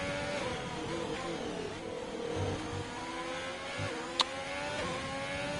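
A race car engine on a hot lap in a racing video game whines steadily through revs and gear changes, rising and falling in pitch, with a sharp click partway through.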